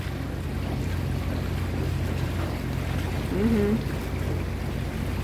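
A tour boat cruises along the river in Wroclaw, giving a steady low engine hum and water wash, with a brief murmured voice near the middle.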